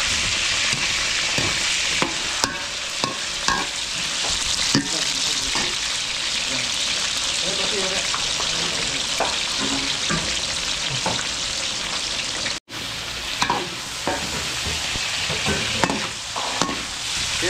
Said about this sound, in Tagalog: hayaan lang natin maluto yung carrots sa patatas natin